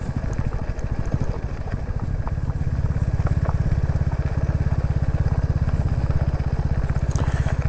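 A Royal Enfield Classic 350 motorcycle engine-brakes downhill on an off-road track, its single-cylinder thump running as a steady, fast, even pulse with crackle and clatter, loud and continuous and with no talk over it.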